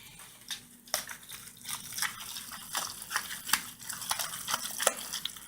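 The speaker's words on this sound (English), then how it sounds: "And then you're gonna mix it well." Tuna salad is mixed in a bowl, giving wet, squelching stirs with sharp scraping clicks at irregular intervals, close and moderately loud.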